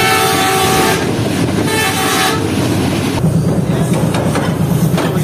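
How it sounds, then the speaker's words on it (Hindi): Tezgam passenger train in Pakistan gathering speed while passing a container train, a loud continuous rumble of wheels and carriages with a horn-like tone holding for the first few seconds, then a steady droning hum. "ट्रेन की स्पीड बढ़ रही है और एक डाउन कंटेनर ट्रेन को ओवरटेक कर रहे हैं हम यहाँ पर"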